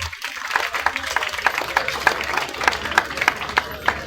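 An audience at an educational talk in a school hall claps for itself, a brief round of scattered applause with sharp, irregular claps that build and then fade.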